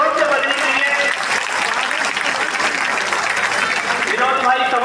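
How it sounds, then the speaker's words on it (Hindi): A ceremony audience honouring teachers claps steadily and fairly loudly for about five seconds, a broad continuous patter, with a voice rising over the applause toward the end. "हमारी तालियां बड़ी जोर से बजनी चाहिए।"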